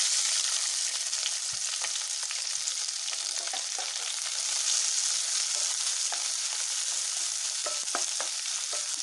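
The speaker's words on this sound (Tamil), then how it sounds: "ஒரு 5-6 பூண்டு, கொஞ்சம் இஞ்சி, 4-5 பச்சை மிளகாய். இதை வந்து வணக்கி விட்டுடலாம் எல்லாம் சேர்த்து." Shallots, garlic, ginger and green chillies sauté in a hot pan with oil, a steady close sizzle running throughout, broken by occasional soft clicks and scrapes as the mixture is stirred.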